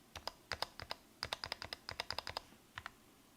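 Crisp individual keystrokes on a Tofu 65 custom keyboard fitted with Tealios V2 switches and PBT keycaps, irregular clusters of soft, close clacks with short pauses between, quiet and alone.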